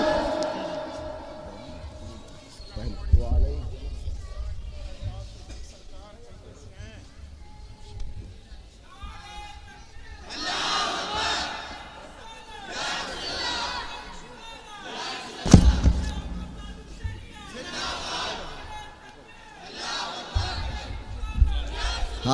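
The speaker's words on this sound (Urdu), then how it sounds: "نعرے تکبیر، نعرے رسالت" A large gathering at a Sunni religious talk in Govandi chants Takbir and Risalat slogans, with loud bursts of massed voices rising and falling between quieter stretches of a single voice.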